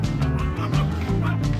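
A dog barks and growls in a rough, low voice, a few short bursts close by.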